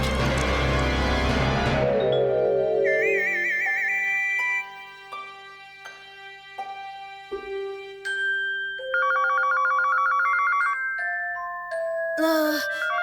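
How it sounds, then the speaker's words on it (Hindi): A melodic electronic phone ringtone plays as a sequence of bright chiming tones, loud and close, after a burst of louder music at the start. "बड़ी देर से फोन आया।"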